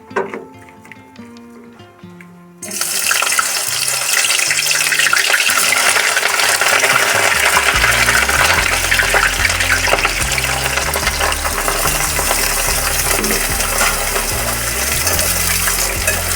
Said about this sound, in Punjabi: ਹੁਣ ਇਹ ਵਾਲੀ ਗੋਭੀ ਨੂੰ ਇਹਦੇ ਵਿੱਚ ਕਰਾਂਗੇ ਜੀ ਫਰਾਈ